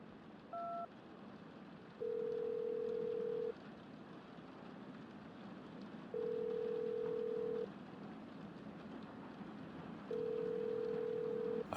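Telephone ringback tone of a call ringing out unanswered, three long steady rings spaced evenly apart after a brief tone, moderately loud over a faint background hiss with no voices.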